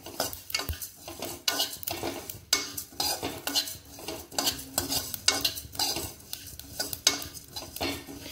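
Repeated scraping strokes of a spoon stirring and dry roasting an ingredient in a pan over a medium flame, for a limon chutney-style crush, with a soft sizzle and steady rhythmic scrapes, close and moderately loud, no talking.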